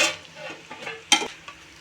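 A large spoon stirs two spoonfuls of chili powder into boti curry in a pot, making close, irregular scraping and wet stirring noises with one sharper clatter midway, and no speech.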